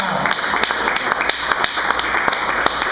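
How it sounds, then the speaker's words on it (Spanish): Applause for the mothers at a church service: a dense, steady patter of many hands clapping, with a few sharper claps standing out, continuous throughout at moderate loudness. "Vamos a darle un aplauso a las madres"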